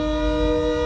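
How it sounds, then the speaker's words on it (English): A steady, loud tonal drone with layered pitches, like a train horn or crossing signal, sounds continuously for the whole short moment as a train passes a railroad crossing, heard from a delivery driver's vehicle. "Why is there a train crossing?"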